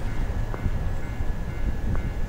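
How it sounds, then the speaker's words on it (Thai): Low rumbling rail noise of a train rolling past in the horror video game Tsugunohi, a steady continuous drone with a faint whistle-like tone, heard alone with no talk. "รถไฟ"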